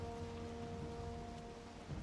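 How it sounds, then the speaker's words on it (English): Rain falls in the Black Forest biome of a video game, a quiet steady hiss of rainfall with a faint low rumble beneath it and a few sustained tonal hums. "it must have been Black Forest where it's raining."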